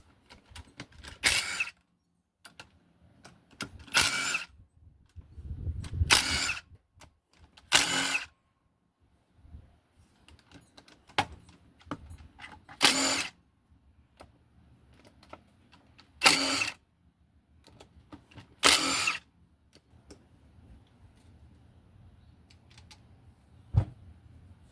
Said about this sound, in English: Remove all the cover bolts here.